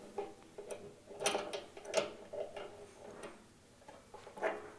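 An adjustable spanner tightening a valve end into a radiator, giving quiet irregular metallic clicks and ratcheting ticks in short bursts at close range, with no one speaking.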